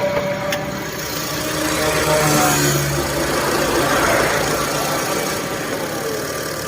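A 1995-model car's engine idles steadily with a low mechanical hum and a faint knocking rumble, close and continuous throughout, with no voices.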